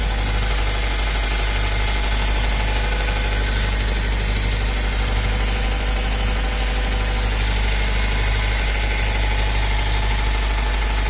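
A Toyota Hiace Grand Cabin engine idles. Its low, even drone holds steady and loud throughout, with no voices.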